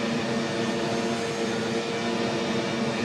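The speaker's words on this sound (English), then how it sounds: "I don't know if I'll be able to land this plane" An Airbus A330 jet in the Flight Simulator X game gives a continuous loud roar of engine and wind noise, broad and steady with no breaks and no talk.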